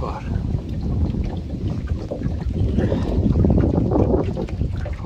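Cold wind blowing at Tyresö Flaten, a lake shore with moored boats, buffeting the microphone in a steady low roar that swells and eases without a break.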